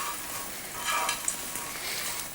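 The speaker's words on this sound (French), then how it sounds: "Là, alors, on remue." Croutons being stirred into a salad landaise in a bowl, a soft continuous rustling and crackling scrape, close and steady, with no talking.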